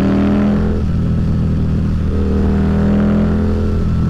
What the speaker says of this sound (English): What a freaking roar this motor has, though.